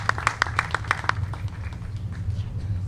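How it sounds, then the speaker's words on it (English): An audience claps at a community event for the One Brooklyn NYCx and Brownsville Neighborhood Innovation Lab, a brief burst of hand claps that fades quickly beneath a steady low hum. "So round of applause for them."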